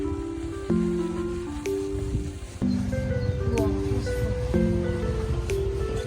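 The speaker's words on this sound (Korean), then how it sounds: "어 갑자기 비가 와서 여기서 비를 좀 피해 보겠습니다." A sudden rain shower on a trekking route near Sapa, Vietnam, gives a steady hiss of rainfall around the listener, while muffled voices talk over it.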